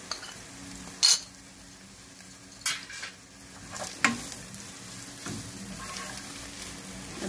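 Food for a baked chicken and flatbread dish sizzles quietly in a frying pan while a utensil stirs and scrapes it, giving a few sharp clinks against the pan.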